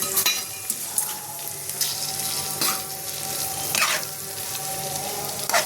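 Flattened rice with green peas sizzles and fries in a pan, a steady crackle broken by a few scraping stirs of a utensil against the metal, close and fairly loud.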